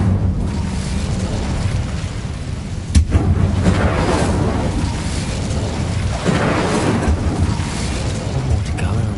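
A fire spell cast in Hogwarts Legacy bursts out as a single loud, explosive whoosh about three seconds in, over a steady rumbling game background with no voices.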